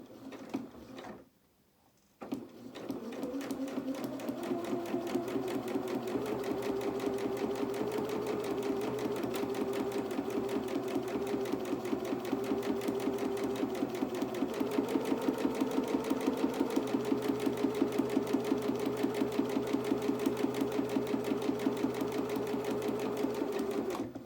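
A sewing machine stitches a long dress hem, running in a steady continuous whir for a sustained stretch after a brief pause near the start, close and alone.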